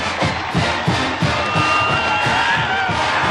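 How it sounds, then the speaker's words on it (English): A large football crowd roars and cheers at Jones Stadium during a 1996 Nebraska vs Texas Tech game, a sustained loud wash of voices with whoops rising and falling. "And that gets the crowd going here at Jones Stadium."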